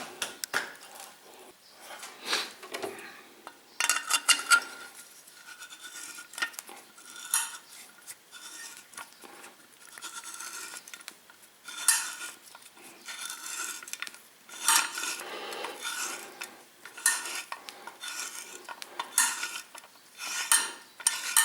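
Repeated metallic scraping and clinking, close and irregular, with grinding rubs and sharp taps of metal against metal over about twenty seconds, while restoring the clutch shaft seat of a Simson M541 motorcycle.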